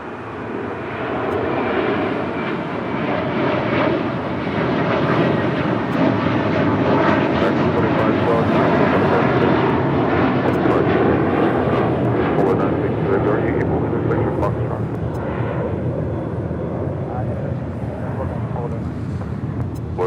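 An American Airlines Airbus A321 departs Los Angeles International Airport, its jet engines a loud, steady broadband roar that holds for the whole stretch and thins slightly toward the end.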